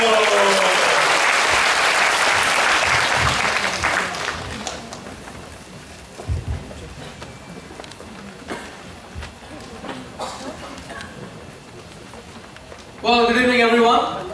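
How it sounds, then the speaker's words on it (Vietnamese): Large audience bursts into loud, sustained applause at an evening event in Hanoi, then the clapping fades and a few voices speak before a short, sharp final burst of applause near the end. "xin các chị dành một tràng pháo tay thật lớn"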